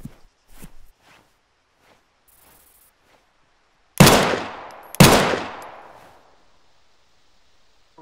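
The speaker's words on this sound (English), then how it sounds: "Stop shooting, this guy's gonna die." Two loud, close gunshots in the video game ArmA 3, a second apart, each with a long echoing tail, after faint ticks and footstep-like taps.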